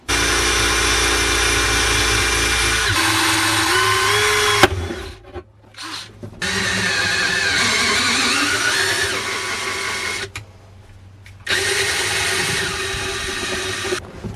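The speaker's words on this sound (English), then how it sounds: "So we're gonna drill the holes, tap the holes," Power drill boring bolt holes for mounting a fire extinguisher in a drift car, loud whining bursts with pitch shifts as the bit bites, separated by short pauses.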